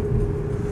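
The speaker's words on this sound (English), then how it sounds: "Nice sounding engine." A BMW 318iS 1.9 coupe engine idles steadily with a low, even rumble, close by, no voices.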